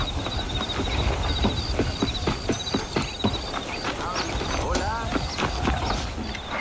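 Horse hooves clip-clop in a steady rhythm during a ride in a video game, moderately close, with creaks and ambient noise mixed in.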